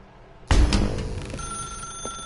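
A telephone rings in the video game The Stanley Parable, a sudden loud bell burst that then rings on steadily as a shrill tone, with no talk.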